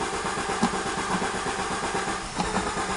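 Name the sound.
Renault 25 V6 Turbo engine cranking and trying to start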